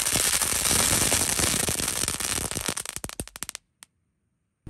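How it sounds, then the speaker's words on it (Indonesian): A rapid, dense string of five packs of egg-type firecrackers set off at once crackles loudly, thinning into scattered pops before stopping, with one last bang after a short silence. "kita nyalakan mercon pretekan telur dino 5 pak sekaligus"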